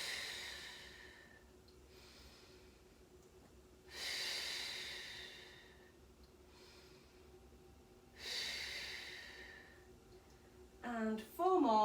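Forceful breaths during a guided rotation exercise, with two long, loud breathy exhales standing out over quieter inhales in a steady rhythm, close to the microphone; a brief clicking burst comes at the end.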